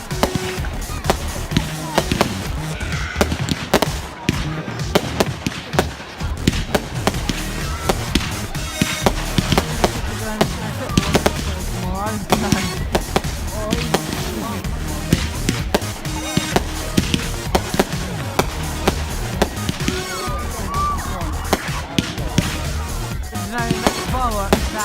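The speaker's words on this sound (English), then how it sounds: "Fireworks sound" Bonfire Night fireworks pop and crack in rapid irregular bursts throughout, sharp loud bangs scattered over a continuous crackle, with people talking in the background.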